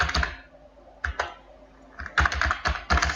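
Close, crisp computer-keyboard typing during data entry in a spreadsheet, with a short burst of keystrokes, a pause, then a denser run of clicks.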